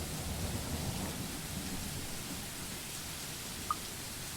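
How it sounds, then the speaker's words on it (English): Heavy video-game downpour with thunder, a dense steady roar of rain filling the scene with a low rumbling undertone and a couple of faint clicks near the end. "I would hate to be caught unawares in this rain."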